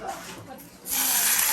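Curry chicken sizzles in a pan over an outdoor campfire, a soft hiss that swells into a louder, steady crackling sizzle partway through, with a voice briefly heard.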